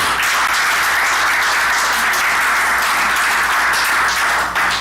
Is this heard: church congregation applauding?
yes